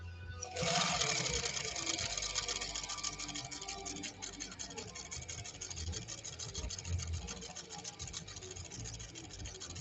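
A vintage sewing machine, a Pfaff 130-6 or Singer 201-2, runs steadily at close range with a continuous rapid whirring stitch that starts abruptly and keeps going to the end.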